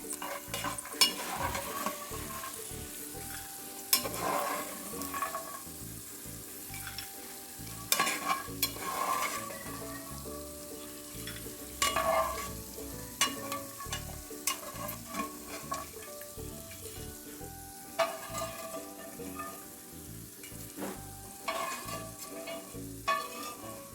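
Steady sizzle of jackfruit fibre chips frying in hot coconut oil, with a spoon stirring and scraping the pan at intervals, close up and without talk.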